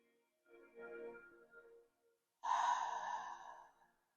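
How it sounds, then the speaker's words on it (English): A person draws a slow, deep breath in through the nose, then lets a longer, louder breath out, close and clear against silence. "Take a deep breath in through your nose."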